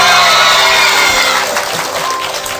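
A studio audience in a television talk show bursting into loud cheering and applause, with shrieks and whoops riding over the clapping, then easing slightly toward the end.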